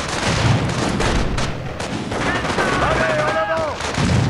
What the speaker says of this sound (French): Ils couvrent la route avec des canons de 88!